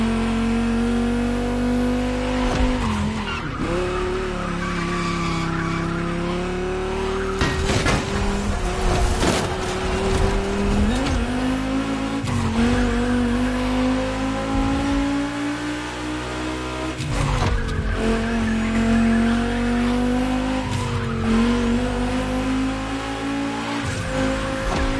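Volkswagen race cars lapping a track, engines droning and shifting pitch with repeated tire squeals and skids, loud and continuous.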